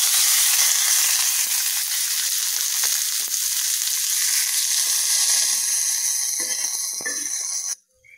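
Chopped large onion sautéing in a pan for a Tamil-style fish fry, a steady, loud, bright sizzle that runs unbroken for several seconds before cutting out abruptly near the end.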